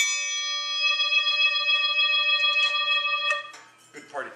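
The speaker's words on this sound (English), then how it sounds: "the swing gong" A swing gong from a drummer's home percussion rack, struck once and left ringing: a bright, sustained metallic tone with several steady overtones that shimmers for about three seconds before being damped, with a few light knocks at the end.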